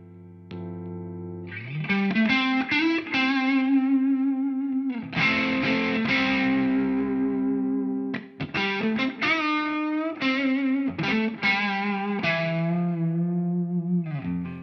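Electric guitar played through a Dualist overdrive pedal in a studio rig, loud, driven chords and riffs ringing out in bursts with short gaps, sustained distorted tones, no voices.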